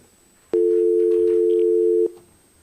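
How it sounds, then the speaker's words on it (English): A telephone line tone sounds during a public assembly meeting's call-in, a single loud steady electronic tone lasting about a second and a half, starting and stopping abruptly against a quiet background. "We have a phone call."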